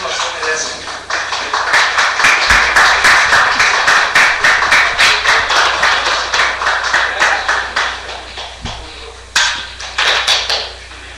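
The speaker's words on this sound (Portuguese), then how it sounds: "tivemos aí um momento do aplauso da plateia" Studio audience applauding in steady, loud rhythmic claps, a close and sustained patter of hands that runs for about ten seconds with a brief break near the end.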